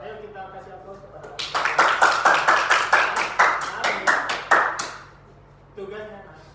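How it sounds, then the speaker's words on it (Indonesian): A classroom group claps together after a micro-teaching presentation. It sounds like a steady, rhythmic run of about fifteen unison claps lasting several seconds, with a voice speaking just before and after. "Ayo kita kasih aplaus kepada"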